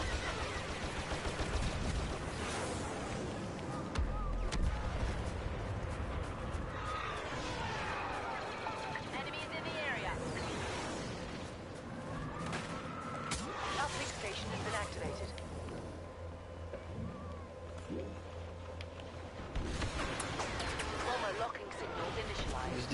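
Gunfire and artillery from a Star Wars Battlefront battle rumble continuously, with scattered bursts and distant booms layered under a player's frequent talk.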